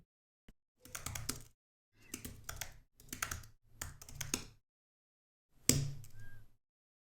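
Quick bursts of clacking keystrokes on a computer keyboard, four clusters of fast typing separated by short pauses, then a final louder key press, close and dry with no talking.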